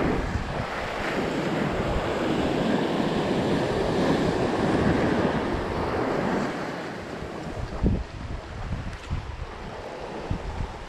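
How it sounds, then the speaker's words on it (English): Ocean surf breaks near the shore at an old navy site by Exmouth, a continuous wash of waves with roaring swells, mixed with gusty wind buffeting the microphone. "Nice little surf break just out here."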